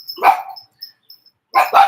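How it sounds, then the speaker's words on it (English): A big, unfamiliar dog barks loudly and close by, two bursts of deep barking with a short gap of quiet between them. "Oh, strange dog encounter. Ooh, big dog."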